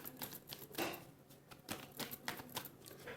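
Tarot cards being shuffled in a reading, a quiet run of rapid papery flicks and riffles in uneven bursts, with no voices.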